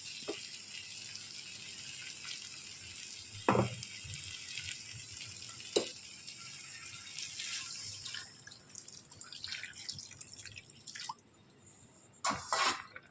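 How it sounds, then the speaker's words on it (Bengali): Water is poured into a pan of pea curry that has been fried down, giving a soft splashing and gushing over a steady sizzle, with a few sharper drips and clatters near the middle and end. "মটরের তরকারিটা কষানো হয়ে গেছে। এরপরে জলটা দিয়ে দিই।"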